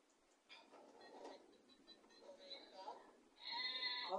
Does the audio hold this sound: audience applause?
no